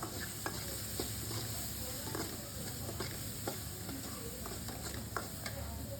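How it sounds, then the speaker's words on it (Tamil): Spices, turmeric and chili powder for sambar sautéing in a pan, with a steady background sizzle broken by scattered scraping stir strokes, no talk over it. "இதெல்லாம் சேர்த்து நல்லா வதக்கி விட்டுக்கோங்க"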